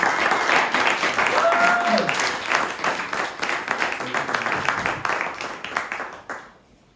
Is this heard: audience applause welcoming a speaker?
yes